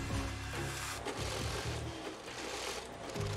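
Industrial sewing machines whir and stitch in steady, overlapping bursts at a factory station where military jackets are assembled, a busy mechanical hum with rhythmic needle chatter and no talking.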